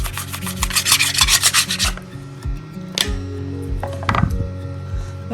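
Potatoes sliced by hand on a cutting board, a quick run of scraping, rasping strokes followed by a few sharper knocks and clatters, close and fairly loud with no talking.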